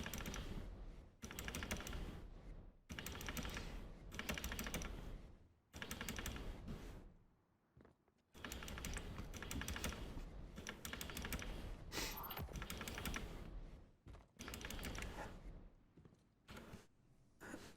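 A computer keyboard's spacebar is hammered in rapid bursts of dense, clattering key presses, coming in close groups of a second or two separated by brief pauses, quiet and near.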